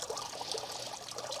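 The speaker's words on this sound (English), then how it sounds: "there's the water coming out the top" Water pours steadily from the top of a landscape fountain with a lion's-mouth spout, a continuous close trickling and splashing with no voices.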